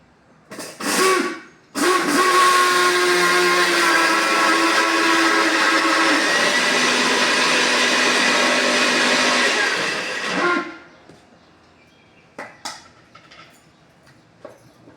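Electric mixer grinder grinding flax seeds, starting with a short burst, then a loud continuous whirring grind that runs for about eight seconds before spinning down, followed by a few faint clatters.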